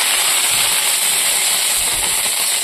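Five-spice tempering sizzling in hot oil in a wok, a steady, loud, even hiss with faint crackle throughout.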